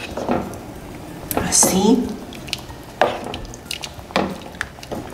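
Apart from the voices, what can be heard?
stirring and pouring peanut sauce over chicken in a pan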